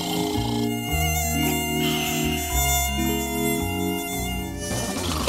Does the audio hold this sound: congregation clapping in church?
no